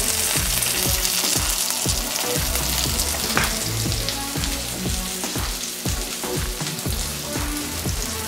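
Burgers seasoned with salt, pepper, garlic and onion frying on a hot surface, a dense, loud, continuous sizzle with crackling pops throughout, heard up close and alone without talk.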